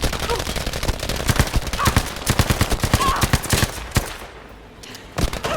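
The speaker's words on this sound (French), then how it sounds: "Une grosse mitrailleuse, non?" Heavy machine gun fire in the World War II shooter Battlefield V: rapid bursts of loud automatic shots rattle through continuous battle noise, pausing briefly near the end before a few more shots.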